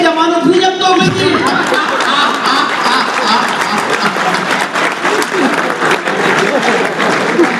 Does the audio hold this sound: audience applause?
yes